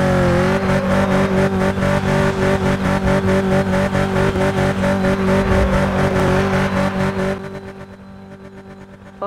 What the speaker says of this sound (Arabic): بنزيدكم شوية دريفت أو حرق إطارات أو دراج